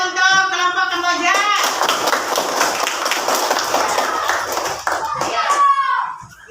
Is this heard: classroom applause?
yes